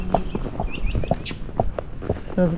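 Hooves of a Missouri Fox Trotter mare on a road clop in an uneven, gliding rhythm, moderately close, with a few bird calls and outdoor noise mixed in.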